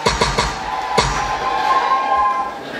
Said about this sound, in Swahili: tumuongezee makofi mengi na vigelegele